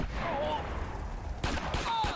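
Shotgun blasts in a video game go off in sharp bursts, the loudest pair near the end, layered over steady game noise and a player's talk.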